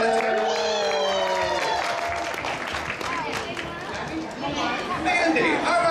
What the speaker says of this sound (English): So a round of applause for Jess.